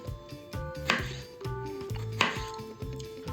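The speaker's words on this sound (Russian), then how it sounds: "Кладем помидор, разрезаем его пополам." Knife cutting a tomato in halves on a cutting board during homemade pizza prep, with a few crisp, close chops against the board at steady intervals between softer handling sounds.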